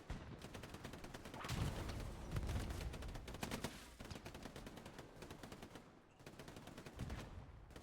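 Bursts of machine-gun fire in a multiplayer military shooter scrim, rapid repeated shots in several volleys, some near and loud, others farther off, with brief gaps between strings.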